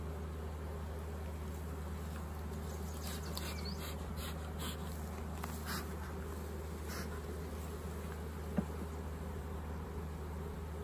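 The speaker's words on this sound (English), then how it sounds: "That's just a lot of bees" Many bees buzz in a meadow, a soft, continuous insect drone at moderate distance with a few faint chirps and clicks over it, no talking.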